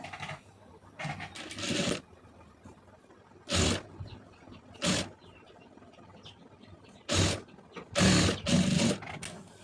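Sewing machine stitching a folded blouse neckline, running in several short bursts with quiet gaps between them.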